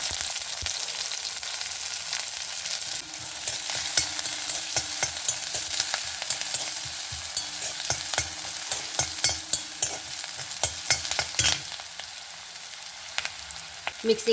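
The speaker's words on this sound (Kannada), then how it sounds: "ಒಲೆ ಮೇಲೆ ಒಂದು ಚಮಚ ತುಪ್ಪ ಹಾಕೊಂಬ ಎರಡು ನೀರುಳ್ಳಿ ಕಟ್ ಮಾಡಿದ ಹಾಕಂತ ಇದ್ದೆ" Chopped onions frying in a spoonful of ghee in a pan on the stove, for a sweet corn kurma: a steady, close sizzle runs throughout, broken by frequent sharp scrapes and taps of a spoon stirring against the pan.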